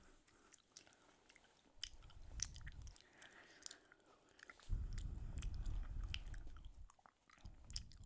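Someone eats a fluffy 'cloud' food during a Halloween party at home, with soft close-up chewing and crunching in two longer bursts separated by quiet pauses, no talking over it.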